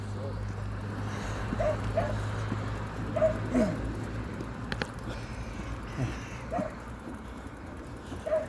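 Several short dog barks sound in pairs at a moderate distance, spread over a low engine rumble and background noise, as dogs run at a cyclist on a road trip.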